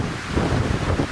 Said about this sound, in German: Wahnsinn, wie windig es ist